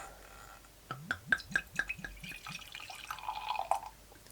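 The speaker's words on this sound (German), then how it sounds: "So, einmal ordentlich einschenken." Homebrewed beer pours into a glass, a run of quick gurgling glugs at the start that settles into a steady fizzing, foaming pour, close and fairly quiet, with no voices.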